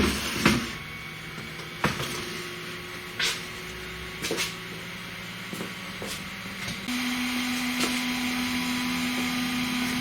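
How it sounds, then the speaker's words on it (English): Small cooling fans on a budget laser engraver module and its laser circuit board whir steadily at close range, with a few sharp clicks and knocks over the hum and a louder tone starting partway through. "now that whirring that you can hear actually is the little fan on top of the laser and the little fan on the laser circuit board"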